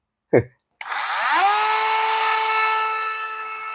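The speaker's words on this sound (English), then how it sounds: "I always use this round drill bit to drill through this sort of" A brief knock, then a power drill with a round drill bit spins up with a rising whine and holds a steady, loud, high-pitched drone.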